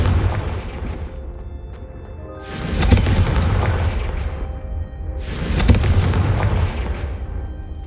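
Two booming blasts from the Confringo blasting spell in the Hogwarts Legacy video game, each a loud sudden burst that rumbles and fades over a couple of seconds, spaced apart.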